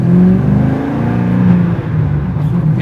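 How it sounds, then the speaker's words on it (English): Loud, close engine roar of a track-prepped 650 hp C6 Z06 Corvette accelerating hard in second gear, a sustained throaty drone with rising harmonic tones and no break throughout. "Keep going, second gear, harder"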